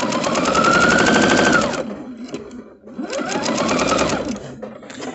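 Sewing machine running at speed while stitching quilt fabric, a steady rapid whirring chatter in two bursts separated by a short pause, close and loud with no talk.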